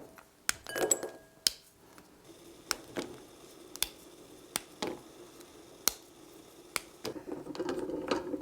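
A bar of chocolate being snapped into pieces into a glass bowl: a dozen or so sharp, irregular snaps and clinks spread over several seconds, close and crisp against a quiet room.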